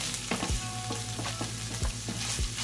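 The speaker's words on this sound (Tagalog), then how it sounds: "Ginigisa ko lang siya. Lutuin muna natin yung ating meat" Ground pork sautéing in a pan for a Filipino bitter melon dish, a steady close sizzle and fry with a few scraping stirs of a utensil against the pan, no voices.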